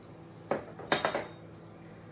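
Metal utensils clinking against a dish while butter is mixed into cooked spaghetti for a Japanese-style pasta: a few sharp, close taps in quick succession, then quiet.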